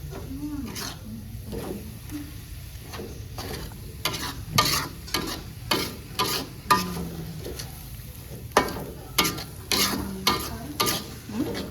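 Martabak frying in oil sizzles steadily while a utensil scrapes and clacks against the pan in repeated sharp strokes, growing more regular and louder toward the end, with voices talking nearby.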